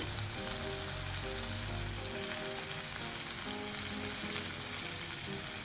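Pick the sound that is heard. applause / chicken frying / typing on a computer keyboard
chicken frying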